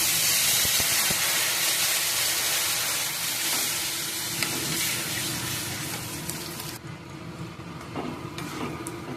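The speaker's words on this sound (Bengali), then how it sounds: "এবার এর মধ্যে জল দিয়ে দেবো।" Water poured into frying vegetables in a pan for a tilapia fish curry bursts into a loud, close hiss of sizzling and steam that gradually eases and fades toward the end.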